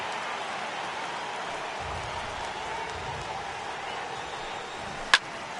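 Heavy rain falling on a ballpark in MLB 18 The Show, a steady soft hiss of downpour through the whole stretch, with a brief sharp crack near the end over a faint game-broadcast bed.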